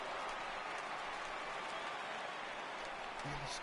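Simulated baseball stadium crowd in a video game during an American League Championship Series between the Boston Red Sox and Kansas City Royals, a broad steady roar of cheering, distant and continuous, with commentary voices underneath.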